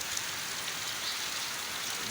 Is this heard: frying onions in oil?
no